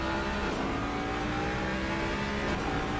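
Race car engine heard from on board at the Nordschleife in a racing simulator game, a steady loud roar with sustained revving and harmonic whine throughout, no talk.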